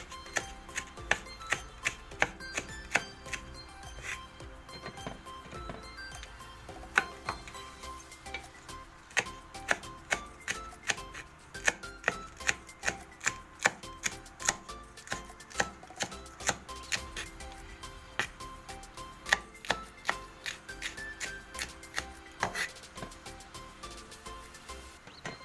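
A knife chops a long green chili into small pieces on a board, making rapid, fairly regular close taps that run continuously and quietly, with no speech over them.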